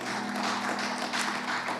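A church congregation at a Hindi Sunday service applauds to welcome a baby, a dense, even wash of many hands clapping together over a low steady hum.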